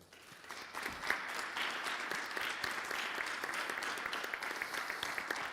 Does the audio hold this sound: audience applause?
yes